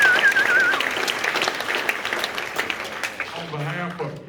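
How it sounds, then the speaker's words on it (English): An audience at a briefing for the Junior BassMaster National Championship gives a round of applause, a steady wash of clapping that gradually fades, with talking mixed in and a voice emerging near the end. "let's give him a round of applause"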